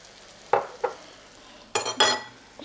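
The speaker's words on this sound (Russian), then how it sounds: "Кабачки наши дожариваются." Zucchini fry in a pan: a low sizzle beneath a few sharp scrapes and clatters of a utensil against the pan, two early and a louder cluster near the end.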